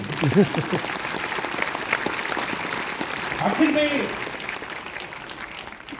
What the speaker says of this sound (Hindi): अगर दिल करता है तो ताली होती है।